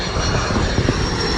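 A jet airliner roars in a steady, loud rumble as it takes off from an international airport runway, heard from a distance outdoors without talk.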